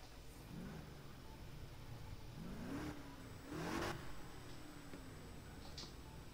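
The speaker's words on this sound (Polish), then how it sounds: "Jak to brzmi samochód?" A BMW M2 engine in Need for Speed Heat revs up in several rising sweeps, close and fairly loud over a steady engine drone, with no voices.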